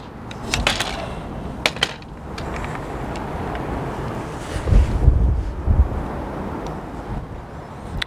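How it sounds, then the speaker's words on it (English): Strong wind buffets and roars steadily, with gusty low rumbles and occasional sharp rattles; no voices. "It's really big wind."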